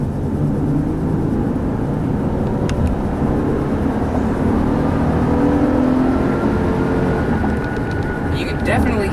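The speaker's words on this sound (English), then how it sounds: "You can definitely hear that VTEC crossover too" A 2012 Honda Pilot EX-L engine pulls hard through VTEC crossover on a test drive, a steady loud intake roar with road noise filling the cabin throughout.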